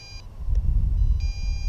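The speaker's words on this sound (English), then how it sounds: "the beeping is still going" An Eachine EX2 mini brushless FPV drone beeps after its motors shut off, giving two brief high-pitched electronic tones about a second apart over a low, steady outdoor rumble.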